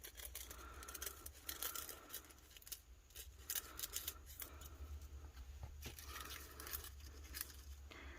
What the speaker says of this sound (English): So I'm just going to cut sections off.